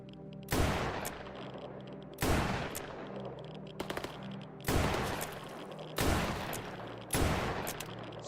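Bursts of automatic gunfire in the shooter game Stalker Gamma, five heavy volleys spaced a second or two apart, each sharp and loud with short rattling tails, alone without talk.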